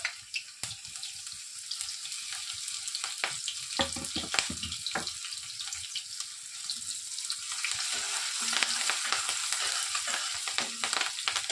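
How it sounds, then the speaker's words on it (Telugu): Garlic and green chilies frying in hot oil in a kadai, a bright hissing sizzle dotted with clicks and scraping stirs, close by, with the sizzle growing denser and louder toward the end. "ఆయిల్ కాస్త హీట్ అయిన తర్వాత కట్ చేసి పెట్టుకున్నటువంటి వెల్లుల్లిని వేసుకుంటున్నాను"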